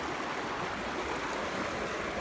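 A chilly river flows steadily nearby, giving a continuous broadband rush of moving water with no pauses and no talking.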